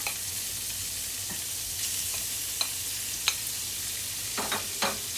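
Two bird's eye chilies stir-frying in a pan for pork basil stir-fry, a soft continuous sizzle under a few sharp spatula scrapes and clicks, close and unaccompanied by talk.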